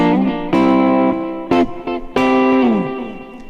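Electric guitar on a grey primer prototype, played with the blend knob fully on for all three pickups, sounding several bright, clean sustained notes and short plucks with gaps between them, alone and close.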